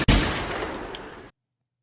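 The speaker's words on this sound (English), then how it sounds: "Gunshots." Gunshot sound effect, a single loud crack with a sustained crackling tail and a few faint high pings, ending abruptly into silence.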